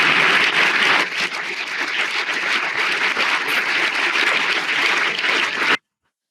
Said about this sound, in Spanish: Ovación cerrada para su amigo al que quería tanto Santos Cerdán